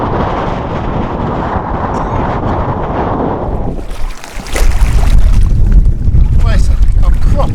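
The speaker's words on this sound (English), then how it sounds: "it's a proper windy day today" Strong wind gusting across a lake while out fishing, a steady broadband roar buffeting the microphone that dips briefly midway, then surges back heavier and louder, with low rumbling gusts dominating.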